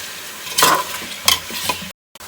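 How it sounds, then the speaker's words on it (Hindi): A couple of stirring scrapes in a pot over a soft sizzle of whole spices frying for mutton kabsa, close up, ending abruptly in silence. "ये सारे मसाला जात हम लोग इसके अंदर डाल देंगे और इसको मज़ीद 4-5 मिनट के लिए भूनेंगे"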